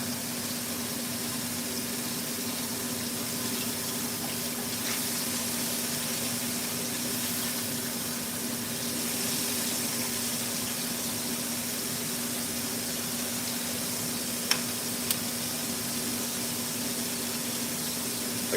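Thin pork chops frying in a pan on a home kitchen stove give a steady, moderately loud hiss and sizzle that runs unbroken throughout, with a low hum beneath and a couple of faint clicks near the end.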